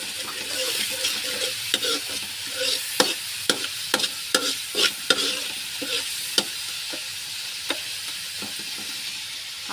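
Eggs frying Pakistani style in a pan, a steady close sizzle broken by repeated sharp scraping taps of a utensil stirring against the pan, with no voices.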